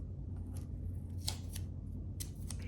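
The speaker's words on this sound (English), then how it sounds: "So I'm gonna grab 4 little pieces of tape and just put them on my drawing board here for a second." Small pieces of tape are torn off a roll at a drafting drawing board, with several quick, faint ripping and snipping bursts spaced irregularly over a low steady room hum, no voices.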